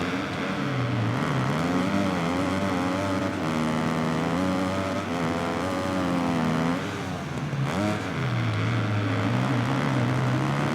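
Motocross bike engine in the MXGP 2019 racing game revving continuously, its pitch rising and falling with throttle changes through corners, loud and steady with no speech.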